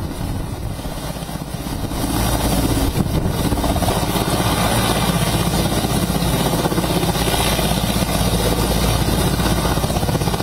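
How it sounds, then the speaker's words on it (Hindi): Police helicopter hovering during a security mock drill in Delhi ahead of a G20 meeting, a loud, steady rotor and engine roar that swells after the first two seconds and stays close and constant. "पुलिस ने हेलीकॉप्टर के साथ मॉक ड्रिल किया।"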